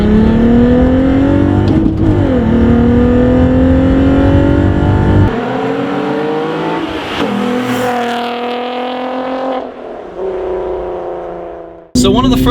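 A 2004 Volkswagen R32 fitted with an APR cold air intake revs loudly close by, holding a droning engine note that rises and falls through several throttle blips before it cuts off abruptly.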